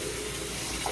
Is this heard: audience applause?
no